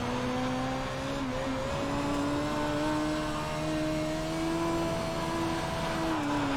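Midget race car at Weedsport in the iRacing sim, engine droning steadily at high revs with a few small pitch shifts as it changes speed, loud and continuous throughout.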